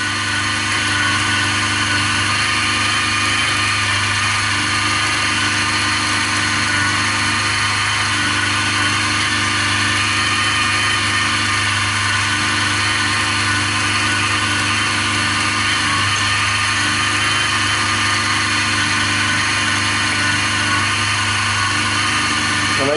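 Machine tool taking a final cut on a crosshead guide part, a loud steady mechanical whine with constant motor hum and tonal ringing, unbroken throughout with no talk.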